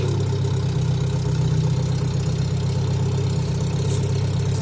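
A car at a vintage vehicle rally idles after starting, and its exhaust may have a small hole. The low, steady engine drone with a slight knocking pulse stays loud and even throughout, with no voices.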